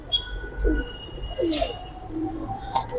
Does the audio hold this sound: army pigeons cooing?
yes